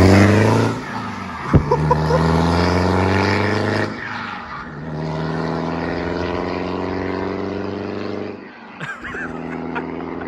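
A Land Rover Defender 90 with a stage 2 tuned engine and air suspension drives along a road, its engine droning loudly and steadily with rising and falling revs and a couple of gear changes.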